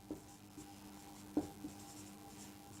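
Chalk or marker writing on a board during a maths lesson, a few short faint taps and strokes spaced irregularly over a quiet room.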